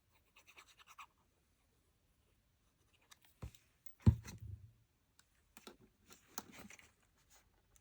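Scissors fussy cutting paper labels for a one-page craft project: quiet, sparse snips and paper rustles in small clusters, with one sharper handling knock partway through and long near-silent gaps.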